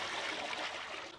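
A splash of water is poured into crumbled paneer in a kitchen while making rasgulla, giving a brief, steady, close trickle that tapers off at the end.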